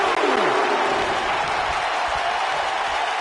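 Arena crowd in the WWE 2K19 wrestling game roars with steady, loud cheering and applause, a dense continuous wash of noise throughout.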